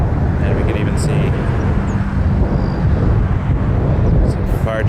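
An aircraft departing Toronto Pearson airport gives a loud, steady engine roar mixed with wind buffeting the microphone, with a voice talking over it.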